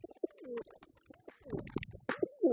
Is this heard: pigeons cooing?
yes